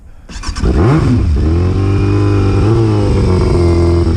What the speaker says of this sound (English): you struggle to hear me over the engine